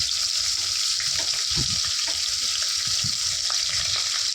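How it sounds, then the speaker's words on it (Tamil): Onions sautéing in a pan for vegetable biryani give a steady, bright hiss of frying, with soft irregular clinks and low knocks underneath, close up and continuous without any voices. "வெங்காயத்தை போட்டுட்டு அதுக்கப்புறம் பார்த்திங்கன்னா அது நல்லா வதங்கிருந்தீங்க"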